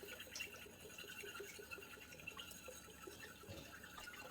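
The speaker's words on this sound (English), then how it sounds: "I'm going to be slowly pouring this solution into the crock pot with coconut oil." Liquid solution trickles and pours steadily into a crock pot with coconut oil, a soft continuous splashing with faint drips, fairly quiet and close, with no talking.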